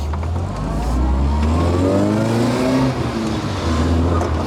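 An MG Metro engine at a classic motor show outing revs and pulls through the gears, a loud, close mid-pitched drone rising in pitch with a brief dip at a gear change, with no talk.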